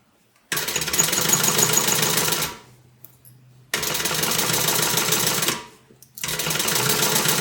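A sewing machine stitches a tote bag pocket in three loud, steady runs, each stopping abruptly with short quiet pauses in between.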